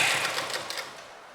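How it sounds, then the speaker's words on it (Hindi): A sewing machine stitches a kurta's side seam in a short, steady, close burst of whirring needle clatter that fades slightly toward the end, with no talk. "बाकी सारे में सिलाई लगा दूंगी।"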